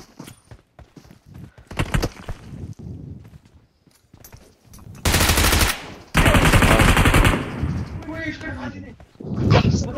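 Shotgun fire in the mobile battle royale game PUBG Mobile, several loud booming blasts and bursts mixed with game sounds, with a player talking over and between the shots.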